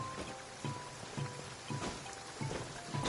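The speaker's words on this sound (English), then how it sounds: "One thing I never actually thought that would happen in that land is that it would rain." Steady rain falls in Genshin Impact's Natlan region, a soft constant patter with faint recurring low thumps beneath it, and no voices.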